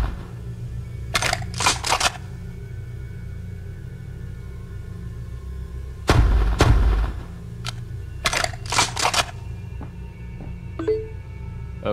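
Sharp gunshot cracks in a video game come in a few separated bursts: a pair early, a heavier blast in the middle and another cluster later, with quiet low hum between them.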